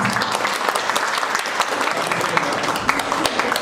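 An audience applauds a couple in a contest, producing dense, continuous clapping from a crowd that stays fairly even across a few seconds.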